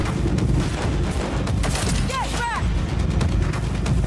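A gun fires in the video game Cyberpunk in a loud, sustained burst against a dense background of game noise, with two rising whistling tones in the middle.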